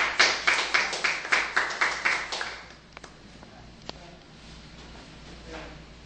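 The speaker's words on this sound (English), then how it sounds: "A round of applause." A small group claps for a scout staff member at a summer training awarding ceremony, about ten close, distinct claps in a quick rhythm that stop after a few seconds, leaving quiet room noise with a couple of faint knocks.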